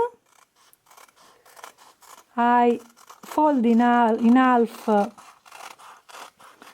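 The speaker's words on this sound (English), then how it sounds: "I use a scissor for paper, only for paper" Paper scissors cut paper for a handmade journal, giving a series of crisp, close snips and light scrapes. A voice speaks briefly over the middle of the cutting.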